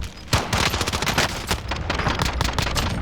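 Rapid submachine gun fire in Call of Duty Warzone, loud close bursts of overlapping shots rattling continuously with a sharp crack near the start.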